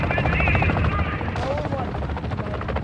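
Helicopter rotor drone in the Call of Duty DMZ video game, a steady continuous whir that holds loud throughout under gameplay effects, with voices talking over it.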